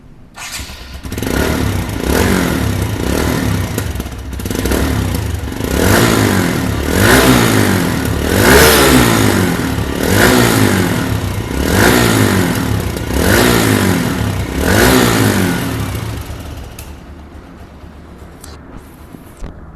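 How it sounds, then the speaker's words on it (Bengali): A used TVS Stryker 125cc motorcycle engine revving hard and close, with about a dozen rhythmic throttle surges rising and falling before it settles toward the end. "এই বাইকটির এখন সাউন্ড কোয়ালিটি শুনবো"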